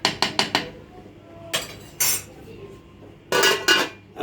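A spoon clanks and scrapes against a metal pot while lentils, vermicelli and rice are stirred for koshari, with quick bursts of knocks followed by pauses.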